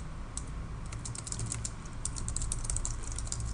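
Typing on a computer keyboard, a quick irregular run of light key clicks close by over a low steady background hum.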